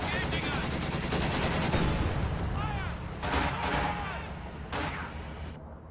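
Rapid bursts of gunfire crackle in the strategy video game Company of Heroes 2, a dense machine-gun-like rattle that gives way to scattered louder shots, with faint voices mixed in.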